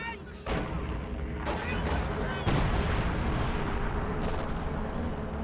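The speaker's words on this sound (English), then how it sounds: "Stern panzer opens up on those riflemen trying to pull off a flank there." A Sturmpanzer in Company of Heroes 2 firing on riflemen: heavy booming cannon blasts and sharp gunshot cracks punctuate a dense rumbling battlefield din, several impacts spaced a second or two apart, loud and close.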